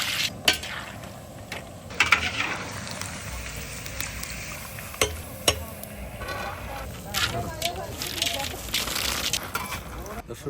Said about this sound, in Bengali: সবার আগে বাদামটা ভেজে নেব।